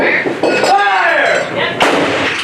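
A cannon fires aboard the USS Constitution, a sharp, loud blast with a rolling crack and echo, heard amid outdoor ship noise and a faint voice.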